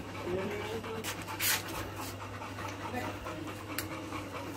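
An American Bully dog pants in quick, steady breaths at close range throughout, with people talking over it.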